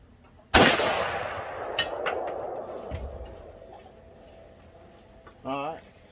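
A single loud close gunshot from a .45 Raptor auto loading rifle, a rimless cartridge based on the .460 Smith & Wesson Magnum, with a sharp crack, a long decaying outdoor echo and a later metallic clatter.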